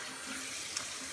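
Water running from a tap while an alum block is rinsed off a face, a quiet continuous hiss of flow with one small splash.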